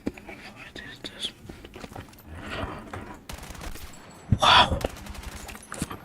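Rapid bursts of M4A1 assault rifle fire in a video game, repeated close shots in quick rattling strings with one louder burst near the end, under quiet whispered talk.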